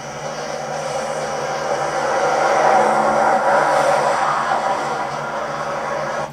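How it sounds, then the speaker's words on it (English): Oncoming traffic on a bridge at night, a passing vehicle's engine and tire rumble swelling gradually to a peak mid-way and easing off again, moderately loud and continuous. "The sound of an approaching engine turns out to be nothing more than oncoming traffic."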